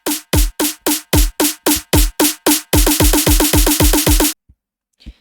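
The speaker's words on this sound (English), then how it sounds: "it's a build up. It's build up drums." Electronic build-up drums for a colour bass track, with kick and snare hits accelerating from spaced quarter-beat strikes into a rapid, dense roll before stopping abruptly; loud and alone, with no talk.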